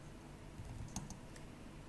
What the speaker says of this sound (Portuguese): se eu digitar São e der Enter